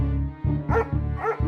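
A dog in a cartoon story barks and yips twice in quick succession while lunging at a cyclist, loud and close over a steady musical backing.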